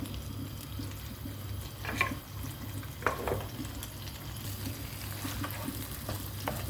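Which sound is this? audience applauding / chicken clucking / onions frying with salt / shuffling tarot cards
onions frying with salt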